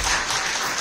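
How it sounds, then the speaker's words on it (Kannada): An audience claps throughout at an award ceremony, giving dense, steady applause at moderate volume with no distinct individual claps. The burst is very short. "ಒಳ್ಳೆ ಚಪ್ಪಾಳೆ"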